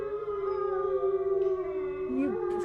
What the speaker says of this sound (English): you hear howling